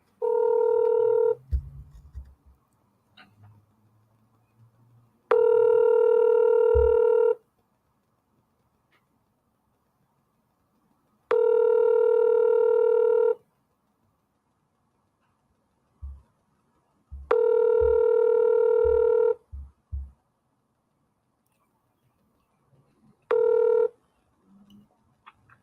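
Long steady ringback tones sound over a phone line during a call, each tone lasting about two seconds with gaps of silence between them, clear and isolated, with brief low thumps around some of the rings.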